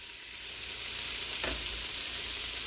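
Onions hitting a hot pan with browned stew beef, a steady broadband sizzle that swells slightly as they go in, close and continuous with no talking.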